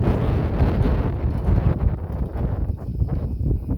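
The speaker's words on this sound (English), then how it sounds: "It's been extremely windy on the homestead lately." Strong wind on an Arizona high-desert homestead roars into the microphone, a loud, steady buffeting rumble with gusty swells and no voices.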